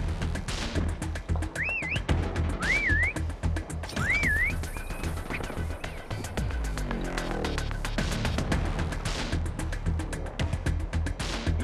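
Short rising two-tone whistles chirp three or four times in quick succession over busy game noise, footsteps and thuds during a Call of Duty prop hunt match.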